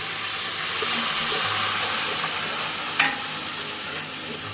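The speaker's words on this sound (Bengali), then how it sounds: "এই এখন আমি এটাতে অল্প একটু পানি অ্যাড করবো।" Water poured into browning beef with spices for beef rezala with potatoes brings a steady hissing sizzle, with one brief clink midway, no talk.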